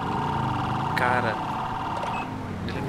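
Police car siren in GTA V wailing loudly and steadily throughout, with electronic tonal sweeps and beeps layered over a busy game soundscape of engine and traffic noise.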